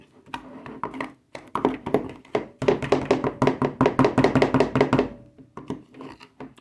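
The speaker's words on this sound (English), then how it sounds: "So I'm going to mix all that up together." Hands work sazon seasoning into raw chicken in a bowl, a close run of soft wet squelches and thumps, sparse at first and then rapid and dense before slowing again.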